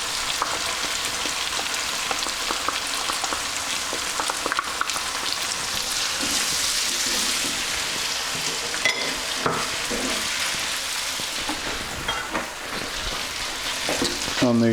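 Tomato passata cooks in a pan for a pizza cone filling, giving a dense, continuous hiss and bubbling sizzle close by, with occasional soft knocks of a utensil and no voices.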